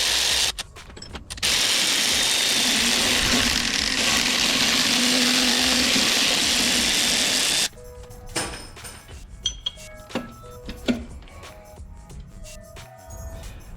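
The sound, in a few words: tools removing the alternator from a Subaru Impreza 2.5RS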